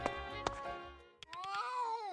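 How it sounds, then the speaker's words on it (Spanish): A cat in the video game A Space for the Unbound gives a drawn-out, wavering meow that rises and falls. It follows some clicky percussive game sounds and a low hum. "¿Ya ha sido eso el maullido de un gato?"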